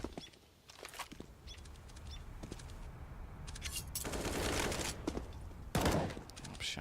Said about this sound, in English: Shot should be perfect from Rubino as he catches Kerrigan, leveling the score